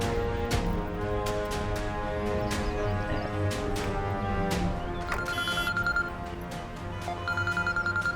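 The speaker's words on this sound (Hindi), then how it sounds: "अरे किसका फोन?" A telephone rings repeatedly in bursts of trilling bell tones, with short pauses between the rings and no talking.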